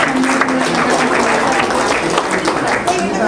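Audience at an alumni meet clapping together, a loud sustained round of applause with scattered voices mixed in.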